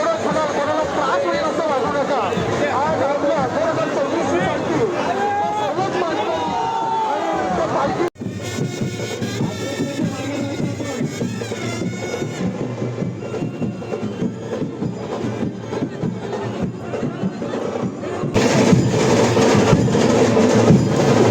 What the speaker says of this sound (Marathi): भयानक गर्दी झालेली आहे